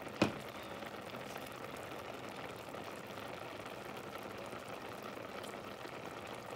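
Vegetables simmering over low heat in a covered pot for homemade organic bouillon cubes, a faint, steady bubbling hiss that holds evenly throughout after a small click at the start.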